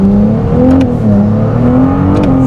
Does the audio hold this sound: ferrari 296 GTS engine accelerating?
yes